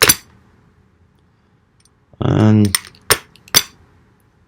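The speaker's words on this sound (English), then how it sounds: "we're going to do 2 zip ties here. And see how the serrations do on that." A serrated knife edge slicing through two zip ties at once: one short dense rasping cut, followed by two sharp clicks as the ties snap, alone in a quiet room after a brief opening tap.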